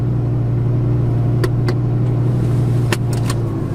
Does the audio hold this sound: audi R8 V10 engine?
yes